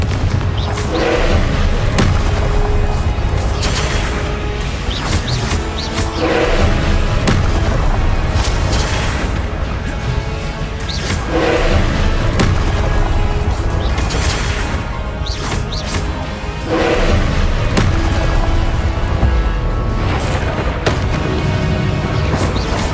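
Confringo blast spells erupt in the wizarding game Hogwarts Legacy: loud, continuous battle noise with repeated heavy booms and crashing impacts that swell every few seconds over a dense rumbling bed.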